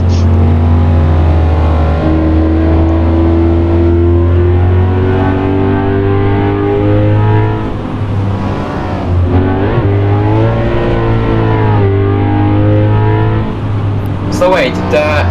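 A virtual car engine in Assetto Corsa holds a loud, steady drone with rising and falling revs during a car meetup cruise on mountain roads, with voices talking over it throughout.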